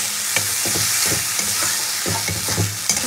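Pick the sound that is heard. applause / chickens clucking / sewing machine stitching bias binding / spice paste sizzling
spice paste sizzling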